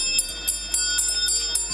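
A bell rung at a Japanese temple or garden in Japan, a bright metallic tone struck several times in quick succession with a sustained ringing hum, close and fairly loud.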